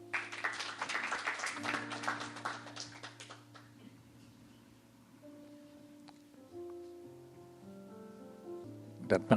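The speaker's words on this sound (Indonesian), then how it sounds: "kasih aplaus untuk" Applause at a wedding ceremony, a burst of clapping from a gathered crowd for about four seconds that fades out, followed by a sustained quiet instrumental tone.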